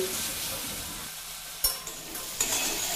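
Spices, pointed gourd (potol) and potato fry and hiss in a pan with a splash of water added. A spatula stirs close by, giving a couple of sharp clinks and scrapes over the steady sizzle.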